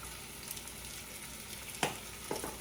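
Roast beef sears in a hot pan just after being flipped, giving a steady low sizzle with a couple of brief clinks or stirring bumps near the end.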